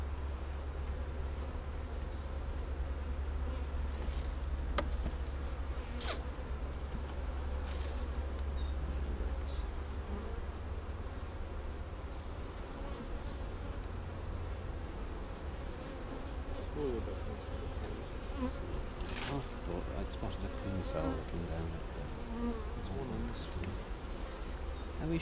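Honey bees buzz around an open hive frame during a honey harvest, a dense steady drone close by with scattered louder passes, and a few faint bird calls behind.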